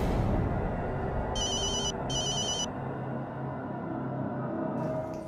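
A telephone rings in two short electronic bursts, one right after the other, over a dull background hiss.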